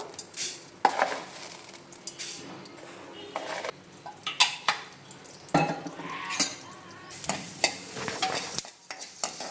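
Coriander seeds dry-roasting in a pan, stirred with a spoon that scrapes and clinks steadily, along with a soft rattle and faint sizzle, close and continuous with no talking.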